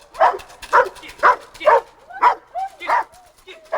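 A dog barking during protection dog training on a gravel driveway, a steady series of about eight loud, close barks evenly spaced, with short whining yips between them.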